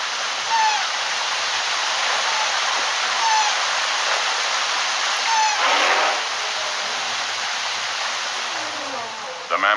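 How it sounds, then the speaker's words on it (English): Steady, dense rain pours down in a continuous hiss, loud and close, with faint bird calls and low rumbles beneath it. "It is raining out on the plain."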